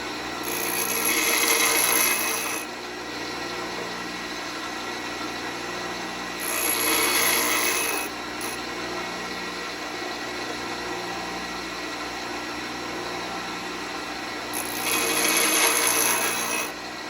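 Three bursts of harsh, hissing grinding as a drill bit is pressed against a spinning grinding stone for sharpening, separated by the steady whir of the grinder running on its own.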